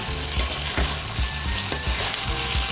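Okra curry sizzling loudly in a frying pan while being stirred, a dense hiss with repeated scraping strokes roughly every half second, very close with no voices.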